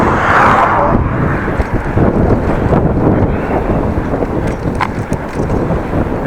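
Wind buffeting a microphone while riding a Dutch city bike on an open road alongside a small child, a steady low rumble and roar that stays loud and constant throughout.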